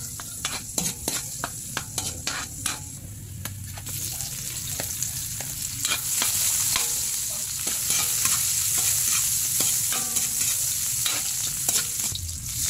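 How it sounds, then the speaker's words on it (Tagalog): Garlic, onion and ginger are sautéed in a pan, with a steady sizzle and frequent rapid scraping stirs of a utensil, the frying hiss growing fuller and louder in the second half. "Isahin na natin ang bawang sibuyas. At luya."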